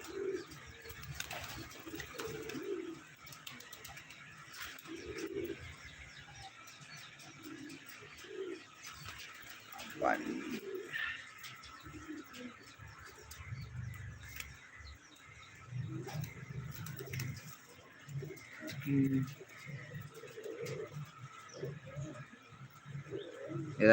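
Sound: pigeons cooing

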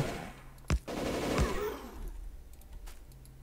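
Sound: gun turrets firing in the video game Factorio

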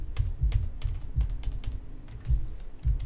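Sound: typing on a computer keyboard

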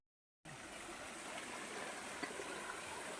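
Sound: small waterfall in a river

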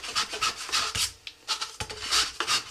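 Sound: sandpaper sanding rocket motor liner edges

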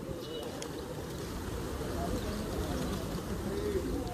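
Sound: flock of Hyderabadi pigeons cooing

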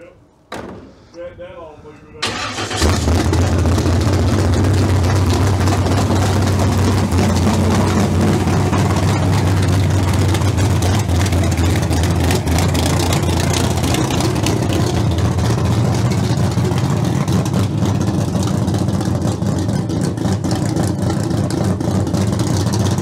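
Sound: Gen 2 Firebird 383 LT1 engine started and idling

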